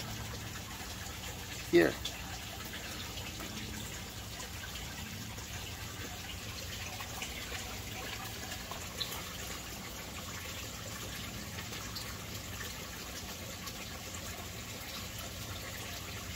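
Water pours steadily through an aquaponics U-siphon into a sump, making a constant low rushing flow. Someone speaks briefly over it, and a single knock sounds early on.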